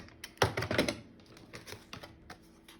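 Scissors snipping through yellow paper cut to three inches for an art journal page, a burst of crisp close cuts followed by several lighter, scattered snips, with no voice.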